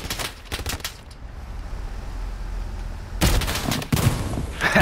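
Close bursts of rifle and machine-gun fire in the Hell Let Loose war game, rapid rattling volleys at the start, a brief lull of distant battle ambience, then heavy firing again.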